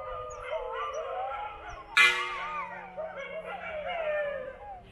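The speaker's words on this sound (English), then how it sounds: "And the dogs are going nuts." Several dogs bark, yelp and howl together in an excited chorus, reacting to a gong being beaten nearby in Siem Reap, Cambodia, with a sharp loud burst partway through and the noise continuing steadily.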